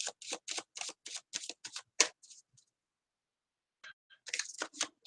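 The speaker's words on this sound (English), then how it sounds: "I'm just gonna do some big chunky shuffles" A deck of tarot cards is shuffled in big chunky riffles, a quick run of crisp rhythmic flutters, then a pause and another burst of shuffling, close and clear.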